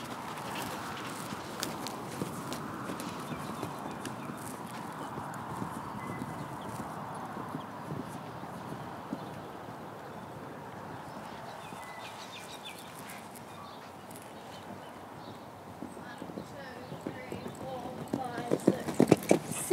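A horse canters around the corner of a riding arena during a jumping lesson. Soft, rhythmic hoofbeats sound at moderate distance under an instructor's voice, with faint birdsong and a few louder thuds near the end.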